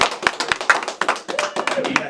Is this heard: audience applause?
yes